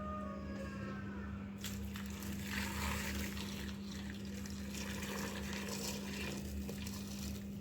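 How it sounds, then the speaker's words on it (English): Water pours steadily into a pot of potatoes, a continuous rushing fill over a low constant hum, with no talking. "we will add some water"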